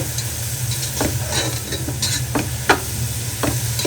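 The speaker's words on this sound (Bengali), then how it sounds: "ভালো মতো মিলিয়ে নিচ্ছি" Vegetables are stir-fried in a pan with ground cumin, coriander, chili and turmeric, giving a steady close sizzle broken by several sharp scraping stirs, with no talking.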